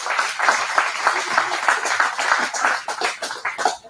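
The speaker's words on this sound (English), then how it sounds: "Big applause again." An audience at a startup pitch event applauds, with dense, steady clapping from many hands that continues for several seconds before tapering slightly, heard from within the room.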